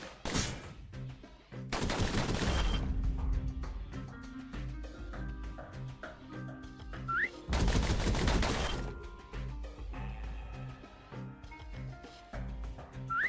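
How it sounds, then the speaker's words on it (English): Gunfire from the video game Bastion, two dense bursts of rapid pistol shots about six seconds apart with layered music and effects running underneath throughout, loud and close. "Those pistols could spit out rounds just as quick as you could pull the trigger."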